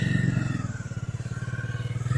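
Bajaj Dominar D400 motorcycle riding through city traffic, its engine giving a steady, close, pulsing low thrum at an even cruising pace throughout.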